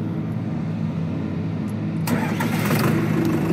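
Steady low mechanical hum of an idling tractor, then a sudden louder, brighter surge of hydraulic whine and engine strain around the two-second mark as a double-acting hydraulic lever is operated.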